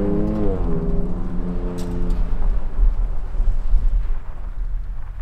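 A 2024 Ford Ranger Raptor engine in sport mode revs up with a rising, layered growl, then gives way to a loud, steady roar as the truck pulls away.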